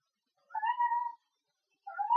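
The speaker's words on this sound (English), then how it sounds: "hear her meowing" A female cat named Lady, not yet spayed, gives two clear meows, a long drawn-out call followed after a pause by a shorter one, close by with no other sound.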